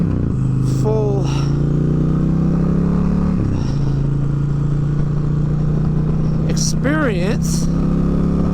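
A 2023 Indian Challenger motorcycle engine drones steadily during a demo ride, a low continuous hum with a gear change partway through. Wind noise runs throughout and a rider speaks over it.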